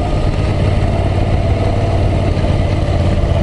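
A Moto Guzzi V9 Roamer's V-twin motorcycle engine drones on steadily during a ride, a continuous loud low rumble with no speech on top.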